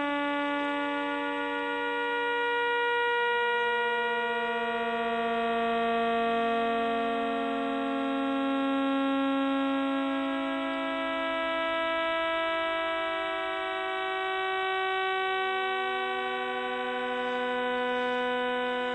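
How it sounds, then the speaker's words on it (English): Radio signals from the sixteen millisecond pulsars of the globular cluster 47 Tucanae, converted to sound, form a steady, layered drone of sustained tones like a string section, slowly shifting in pitch over nearly twenty seconds, with no voices. "the 16 recorded millisecond pulsars in 47 Tuck are making this sound right now."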